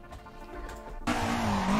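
A car drifts in the Assetto Corsa driving game, engine droning before a sudden loud burst of sustained tire squeal and revving that fills the rest of the moment.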